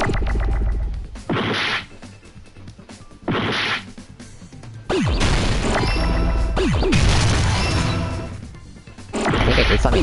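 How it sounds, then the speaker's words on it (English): In the video game Danganronpa V2, letters crash into each other in a series of loud, heavy smashes and whooshing impacts. Each burst lasts a second or more, separated by brief quieter gaps. "all the letters are crashing into each other horribly"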